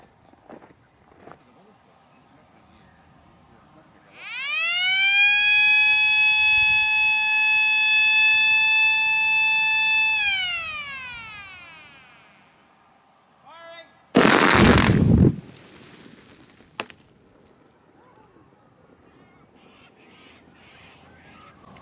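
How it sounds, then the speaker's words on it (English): Rock blasting of a 26-hole shot in mudstone, preceded by a long steady warning siren, then a short sharp loud blast burst with crackling debris, followed by quiet outdoor ambience and faint bird calls. "it's a 26 hole shot in mudstone."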